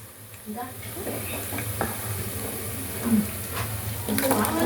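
Oil heats in a pan on a stove over a low flame for boti curry, giving a steady close sizzle with occasional stirring scrapes and clinks.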